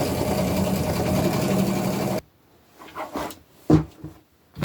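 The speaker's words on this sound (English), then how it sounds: "I'm also back stitching to make them extra strong" Sewing machine running steadily as it back stitches heavy denim seams, a loud continuous mechanical whir for about two seconds that stops abruptly, followed by soft handling clunks and rustles of fabric.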